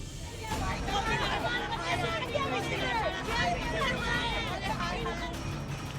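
A large, agitated crowd gathered over a police matter produces a dense, steady hubbub of overlapping voices and shouting that stays loud throughout.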